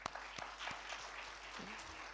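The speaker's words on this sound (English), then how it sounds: "I want us to appreciate all our presenters by giving them a hearty clap from our first presenter to the last" Conference attendees give scattered applause for the presenters. A few distinct claps are followed by thin, quiet clapping in a large room, with faint voices underneath.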